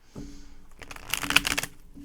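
Tarot cards being shuffled in a run of quick papery riffles that build to a dense flurry and then taper off, close and fairly quiet, with no voice over them.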